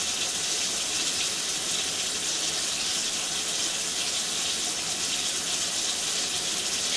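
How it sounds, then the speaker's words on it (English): Water rushes steadily and loudly down into a drain pipe, an unbroken close hiss and gush that holds at the same level throughout. "Wait for this this water to make its way down into the pipe"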